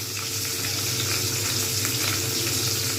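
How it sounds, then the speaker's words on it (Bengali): Pabda fish frying in oil in a pan, a steady close sizzle and crackle that holds even and loud throughout, with no talking. "আমি একটা একটা করেই ভাজবো"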